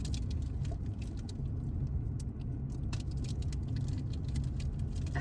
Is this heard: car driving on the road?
yes